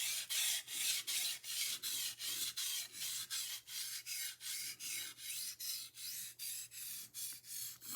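A knife blade is worked along a sharpening stone in even, rhythmic strokes, roughly two or three rasping scrapes per second, close and clear with no talking.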